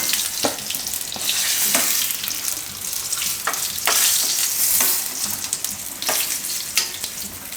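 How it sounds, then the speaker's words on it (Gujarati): Eggplant pieces frying in oil in a pan for a Gujarati fried oro, a steady close sizzle broken by brief clinks and scrapes of stirring, with no talking. "એકદમ પોચા થઈ જાય ત્યાં સુધી એને આપણે તળી લેવાના."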